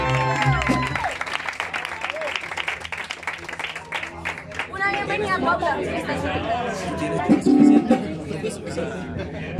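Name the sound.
audience applause at mariachi birthday show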